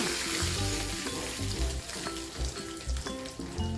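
Hot spiced tempering poured into a prawn and Chinese potato curry, a lively crackling sizzle with bursts of popping that rise and settle repeatedly, close and moderately loud, no voices.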